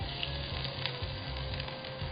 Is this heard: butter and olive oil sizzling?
yes